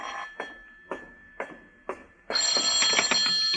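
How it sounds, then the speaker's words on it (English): A telephone rings in a radio drama: several sharp, evenly spaced bell rings sound moderately close, then a louder, brighter burst of ringing takes over at the end. "This is the telephone company calling, Mr. Marlowe."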